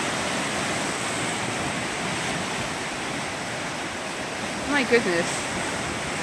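The Afon Lwyd river in Wales, swollen after Storm Dennis, roars through its rapids as a steady, dense rush of water, with a brief exclamation from a nearby voice near the end.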